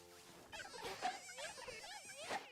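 Bees buzzing in the Pokemon Legends: Arceus video game, a wavering insect drone that rises and falls in pitch over about two and a half seconds, moderately loud with overlapping swells and no talking.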